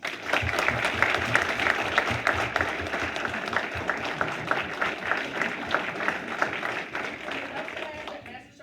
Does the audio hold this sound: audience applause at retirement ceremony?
yes